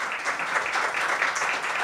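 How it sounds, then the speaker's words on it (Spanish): Audience applause at an academic conference session on the history of thought and writing in Colombia, a dense, even patter of many hands clapping, fairly close and steady throughout the brief moment. "un aplauso a Gilberto."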